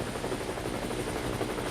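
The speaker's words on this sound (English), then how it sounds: "A helicopter was flying close by." A helicopter flies close overhead, its dense rotor chop and engine drone holding loud and steady for the whole short stretch, with no voices over it.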